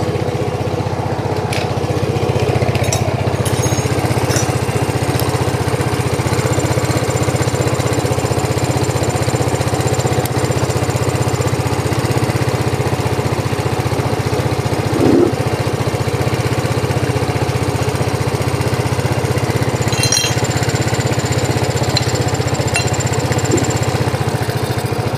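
A Yamaha Mio scooter engine fitted with a new carburetor runs rough and steady close by, a continuous uneven mechanical drone with a few faint clicks and no talking.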